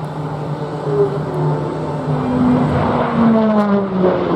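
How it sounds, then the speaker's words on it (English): Propeller airplane engine in flight, a steady droning hum with shifting tonal pitch and a rising, falling rumble, heard loud and close throughout without speech. "Can't control this airplane."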